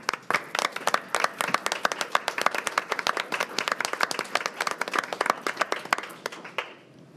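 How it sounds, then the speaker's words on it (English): Audience applause at a school board of education meeting, a steady patter of many hands clapping close by for about seven seconds before tapering off at the end. "I just feel like we should stand up and clap for everyone that got that honor."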